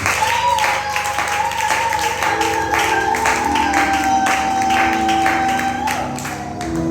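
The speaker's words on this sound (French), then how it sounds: "Si tu es dans la joie, dans la maison du Seigneur, acclame encore pour le Seigneur." A church congregation at a Wednesday worship service claps and cheers in acclamation, with dense sustained applause mixed with voices and a singing or organ-like tone running underneath, loud and lively throughout.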